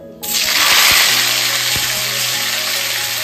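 Curry leaves and ginger crackle in hot oil for tempering boiled dal, a loud, steady broadband sizzle that bursts in abruptly and then holds without pause.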